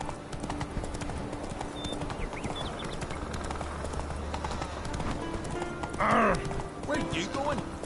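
Horse Roach gallops in a video game, a steady clip-clop of hooves running under an ambient bed, with a brief whinny-like call near the end and a voice speaking at moments.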